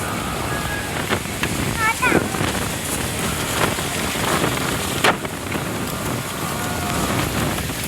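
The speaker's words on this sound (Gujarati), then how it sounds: "વરસાદ થોડો થોડો ચાલુ થઈ ગયો." Light rain falling in a windy storm in Vatamn village, a steady hiss of drops on surfaces mixed with gusting wind rumble on the microphone, with a few sharper clatters and brief voices in the background.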